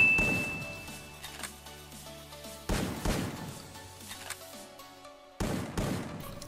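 Gunshots in the mobile battle royale game Free Fire, several sharp reports spaced a couple of seconds apart over in-game music and ringing tones, loud and close.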